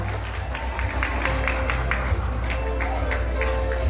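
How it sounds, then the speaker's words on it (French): Audience applause at a crowded event, scattered claps and crowd noise running steadily throughout at moderate loudness, with a voice over a speaker system mixed in. "sur vos applaudissements"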